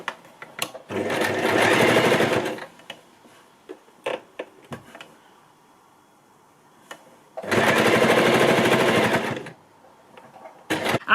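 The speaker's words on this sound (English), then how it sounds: "I'm going to take it down to the machine and start sewing." A sewing machine stitches fabric for a scrunchie in two loud, steady runs of rapid whirring. Small clicks and handling taps fill the quieter gaps between the runs.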